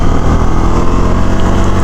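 A Bajaj Dominar 400 BS7 motorcycle runs loud and close, its engine droning steadily with a rough, throbbing low rumble as it rides off, the sound alone with no talk.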